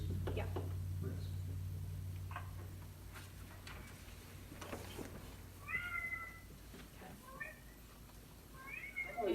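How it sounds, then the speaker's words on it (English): A hungry cat meows several times in the background of an online meeting, short rising calls spaced apart, fairly faint beneath room hum and a few soft voices. "It's a hungry cat at David's."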